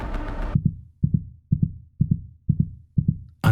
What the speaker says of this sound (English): Each respires and has a deafening heartbeat.